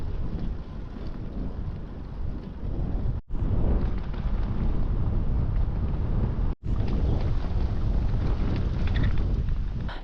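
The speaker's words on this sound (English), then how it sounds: "It's quite windy today" Strong wind buffets a cyclist riding through the Australian outback, a loud, continuous roar of gusts against the microphone broken by two brief drops.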